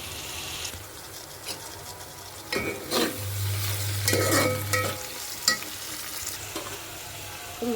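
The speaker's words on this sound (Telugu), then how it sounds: "ఉల్లిపాయలు కొద్దిగా మగ్గినాయి కదండి ఇప్పుడు టమాటా వేసేస్తున్నాను" Tomatoes tipped into softened onions frying in a pan for a fish curry, with a soft sizzle, bursts of wet scraping stirs and clattering spoon taps, close and moderately loud, without talk.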